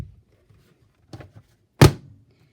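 A Stampin' Up Cut & Emboss machine being opened, with a few soft clicks and taps followed by one loud, solid thunk close by, then quiet.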